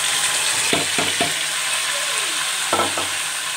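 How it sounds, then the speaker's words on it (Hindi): Garlic and ginger paste fries in a pan with a steady bright sizzle, broken by a few quick scraping stirs as chickpeas are added and mixed in. "अब हम इसमें चने ऐड कर देंगे"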